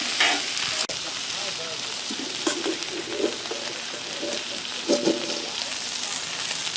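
Hash browns sizzle steadily on a hot Blackstone griddle, a constant crackling hiss broken by a few sharp scraping taps.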